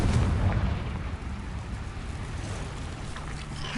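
A Confringo spell in Hogwarts Legacy bursts with a booming explosive blast that decays into a rumbling roar, loud and close, with no talk over it.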